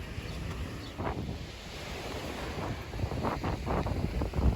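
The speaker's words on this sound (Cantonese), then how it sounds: "好鬼大風啊！" Strong cold wind buffets the microphone outdoors by the sea with large waves nearby, a continuous low rumbling roar that swells in gusts and grows louder toward the end.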